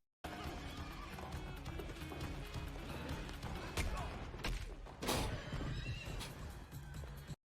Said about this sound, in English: Oh, he's gonna ride the horse, right?